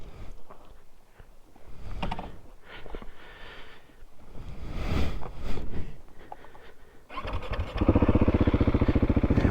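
A KTM 690 SMC-R motorcycle rides along back roads, with wind rush and uneven engine surges over the first stretch before a loud, close, steady engine drone takes over near the end.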